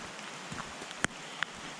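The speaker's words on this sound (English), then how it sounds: "rain's coming down" Rain falls steadily during a bush walk, a soft constant patter on leaves and ground, with a couple of sharper close drips or taps standing out against the wash.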